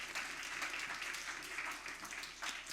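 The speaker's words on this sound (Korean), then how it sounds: "우리 하나님께 영광의 박수 올려드리겠습니다" A church young-adults congregation applauding together, a steady, fairly distant wash of clapping that holds without pause for the whole stretch.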